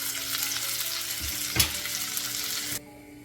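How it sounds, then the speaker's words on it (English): Salmon sizzles and fries in a pan, a loud continuous crackling hiss with a brief bump partway through, cutting off sharply near the end to a quieter background. "I'm going to let that salmon sit in the pan now for just 2 minutes"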